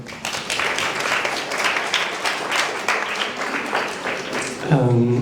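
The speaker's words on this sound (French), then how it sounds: "Je vous ferai un petit applaudir" Audience applause at a design school masterclass, a steady wash of many hands clapping over several seconds, with a voice speaking near the end.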